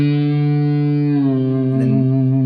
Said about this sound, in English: I'm going to yank or pull the C down until it sounds like that D.